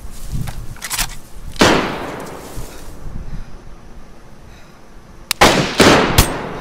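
Gunshots in the video game DayZ ring out as loud, sharp cracks, a couple early on and then a quick cluster of shots near the end, each trailing off into a brief echo.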